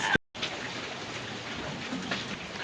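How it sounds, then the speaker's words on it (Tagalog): Steady rain falls on an island, a dense even hiss that continues after a brief dropout at the start. "Umuulan na naman ngayon, guys."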